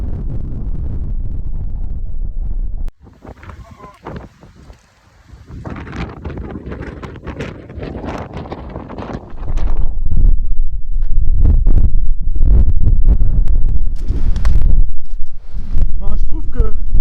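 Strong wind buffets the microphone in a paid natural area on an island, a loud continuous low roar with gusts growing harsher and louder in the second half, broken by bursts of broadband rustle and a voice speaking over it.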